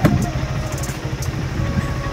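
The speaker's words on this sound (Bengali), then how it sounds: "বাইক নিয়ে ঢুকছি হেনরি আইল্যান্ডে" A motorcycle rumbles with a low, steady pulsing engine as it rides into Henry Island near Bakkhali, continuous and fairly close, with some light rattles over the drone.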